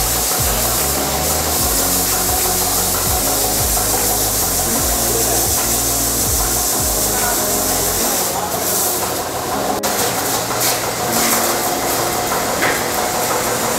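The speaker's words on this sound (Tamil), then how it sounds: "ஆக்சுவலாக இப்போ ஃபோம் வாஷ் பண்ணிகிட்ருக்காங்க." Foam wash spraying onto a car during ceramic coating prep: a loud, continuous pressurised hiss with a pump chugging underneath, the low pulsing dropping away partway through while the spray carries on.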